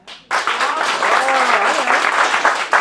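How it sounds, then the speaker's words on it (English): An improv comedy show audience breaks into sudden loud applause after a brief quiet moment, dense clapping mixed with cheers and whoops, sustained and close for a few seconds. "You got to clap for us."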